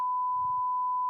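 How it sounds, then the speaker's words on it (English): Censor bleep over names, a single steady pure electronic tone held for just over a second, clean and alone with only faint low murmur beneath. "I'm probably beeping their names out"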